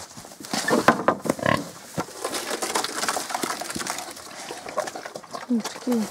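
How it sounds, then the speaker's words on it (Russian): Piglets grunt and snuffle at close range on a village farm, irregular short bursts mixed with rustling and clatter, while people talk nearby throughout. "Вот они наши поросята."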